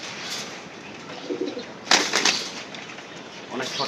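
Restless pigeons move about close by, with short bursts of wing flapping and scuffling over a steady background hiss, the loudest flurry coming in the middle.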